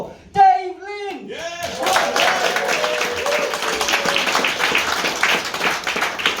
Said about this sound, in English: Please give a big round of applause for Dave Lynch.